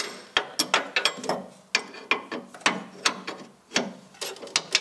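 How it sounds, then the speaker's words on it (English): A ratchet wrench clicks in quick irregular bursts while disconnecting the master brake cylinders from the pedals on a race car being rebuilt, close and crisp with no talking. "So I'm going to try to disconnect now the master brake cylinders from the pedals."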